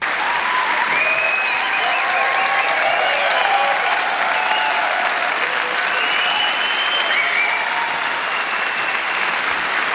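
An audience at a music prize ceremony applauds loudly and steadily throughout, with a few whoops and cheers rising above the clapping.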